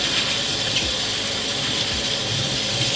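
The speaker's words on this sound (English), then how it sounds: "This is parsley, Italian parsley. So we'll just rinse this off." Italian parsley being rinsed under a running kitchen tap, a steady loud hiss and splash of water that continues unbroken for the whole stretch, with no voices.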